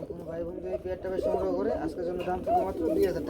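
Low, throaty pigeon cooing rolls on in repeated warbling phrases, close by, with people talking over it.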